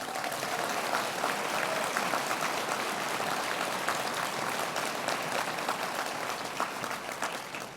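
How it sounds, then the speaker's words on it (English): Sustained applause from an audience at an awards event honoring women, dense steady clapping filling the room and fading slightly at the end. "let's give them a big round of applause"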